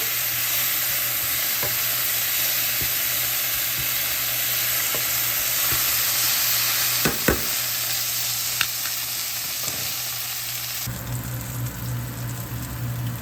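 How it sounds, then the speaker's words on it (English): Beef stir-fried in a pan over a gas flame for pad thai, a steady loud sizzle with occasional scrapes and clinks of stirring, the frying growing louder near the end; no talking. "Now it's time to just turn the beef over, stir this up a little bit for another minute or two."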